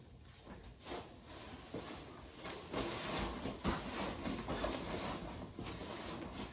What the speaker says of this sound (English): we'll just stuff that into the bag real quick